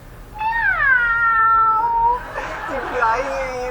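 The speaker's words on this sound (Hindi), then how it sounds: "और उस बिल्ली का नाम था बुलबुल रानी, और ये है बुलबुल रानी।" A cartoon cat gives a long, drawn-out meow that slides downward, followed by a rougher second meow. Both are loud and close over a quiet background.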